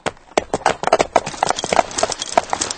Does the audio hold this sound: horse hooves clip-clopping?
yes